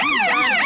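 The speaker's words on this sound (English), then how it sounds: "Might have cut that siren on for Cozy" Emergency siren switched on at a street renaming ceremony, a loud wailing tone rising and falling in smooth sweeps, heard alone and up close.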